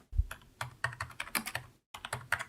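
Rapid keystrokes on a computer keyboard while typing a prompt into an AI image tool, a close, irregular run of clicks with a brief pause before a final burst, no voices.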